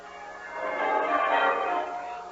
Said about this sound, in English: the bells of the town pealing out there beyond his window